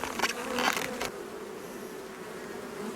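Honeybees hum densely from a packed hive super during a summer honey harvest, a steady close buzz that swells briefly at the start before settling into an even drone.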